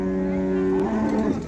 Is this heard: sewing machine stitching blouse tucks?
no